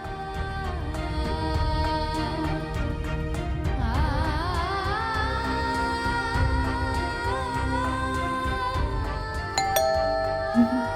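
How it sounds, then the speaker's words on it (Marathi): A doorbell chimes amid an indoor Marathi TV serial scene, its tones ringing out over a continuous musical background for several seconds. "बेल वाजली की धडकीच भरते गो."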